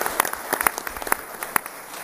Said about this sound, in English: a round of applause for the chief who managed to show up here today and just say hi.